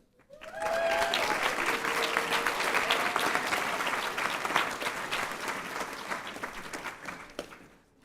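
Sustained applause from a large crowd at a graduation ceremony, rising quickly and holding steady for several seconds before tapering off at the end.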